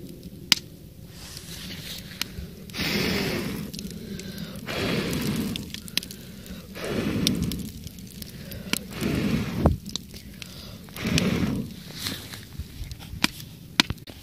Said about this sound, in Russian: Будьте аккуратны, ель и сосна сильно стреляют.